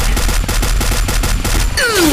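Rapid automatic gunfire in a battle royale video game, loud and continuous bursts in a steady stuttering rhythm, ending with a whistling ricochet-like sweep.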